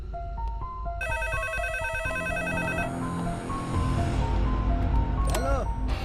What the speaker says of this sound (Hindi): अरे कौन है जो बार-बार फोन कर रहा है और बोल भी नहीं रहा है?